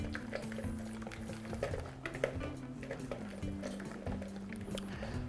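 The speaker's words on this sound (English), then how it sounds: "And now I'll begin to whisk." Salt is whisked into a vinaigrette in a bowl, producing a quick, continuous run of light metallic clinks and wet swishing, fairly close and without speech.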